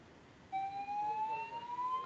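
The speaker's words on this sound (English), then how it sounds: "All right, and the fire alarm continues." Fire alarm sounding indoors during a panel discussion, a steady electronic tone that starts abruptly and holds at moderate volume, slowly rising in pitch.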